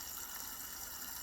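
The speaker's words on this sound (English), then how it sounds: "So I'm just filling this with water." Water runs steadily into a blender jar in a garage, a continuous close rushing fill with no pauses and no voices.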